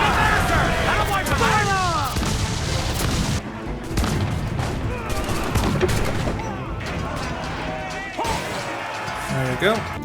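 Ship cannons fire in Assassin's Creed 4 Black Flag, heavy booms and crashes rolling through a thick battle din, with a voice talking over the barrage.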